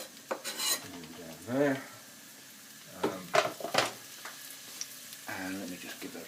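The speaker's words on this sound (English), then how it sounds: "So first of all, the onions go in. And the celery together." Chopped onions and celery frying in a pan for a Cumbrian tatty pot, with intermittent sizzling, scraping stirs and clinks of utensil against pan, close by; a voice speaks briefly.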